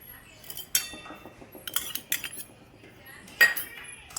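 A metal spoon clinks and scrapes against a dish as spices are mixed in, giving sparse sharp taps and rattles over a quiet background with faint murmuring.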